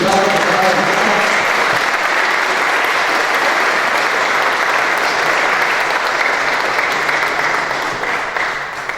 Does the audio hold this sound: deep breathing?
no